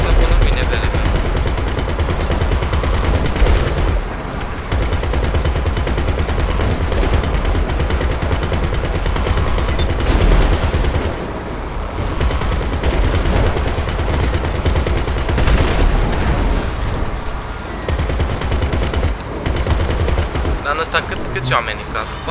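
Sustained gunfire in the video game GTA 5 fills the whole stretch, dense and loud with rapid bursts and a brief lull, while players talk over it.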